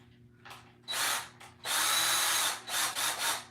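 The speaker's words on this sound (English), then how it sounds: "I just have a Craftsman drill here." Several bursts of a Craftsman cordless drill boring into wood at close range, short pulses followed by a longer sustained run and a few quick stops and starts.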